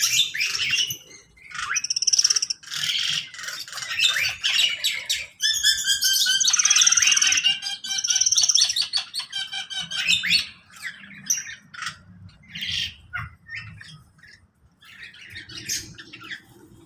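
Serindit parrots in a cage give loud, near, rapid squawks and high chirps in busy bursts, with short pauses between flurries and no talking.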